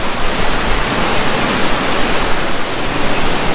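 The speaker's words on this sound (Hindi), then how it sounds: "नीचे से वाटरफॉल भी जा रहा है" A waterfall below a forest resort in Coorg, India, sends up a loud, continuous broadband rush of falling water, steady and unbroken throughout with no voices.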